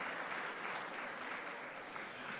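A crowd applauds supporters at the opening ceremony of CTU ICT Week, a regional ICT event: dense, steady clapping that holds at an even level from start to end, with no voices on top.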